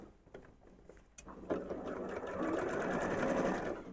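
A sewing machine stitches a Christmas tree quilt panel, starting after a few soft clicks and running in a steady, close whir for the last few seconds.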